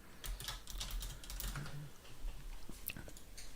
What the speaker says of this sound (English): because I do have a mechanical keyboard.